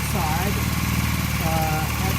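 A restored 1982 Honda CB450 motorcycle engine runs at a steady, low idle, its even throb continuing beneath someone talking nearby.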